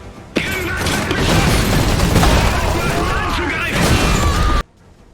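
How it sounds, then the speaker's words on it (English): Explosions and weapon fire from the strategy video game Iron Harvest: a dense, loud barrage of booms, blasts and crashing impacts rolling continuously for about four seconds under battle chaos, then cutting off abruptly. "Explosions, weapon discharges, all of them sound great."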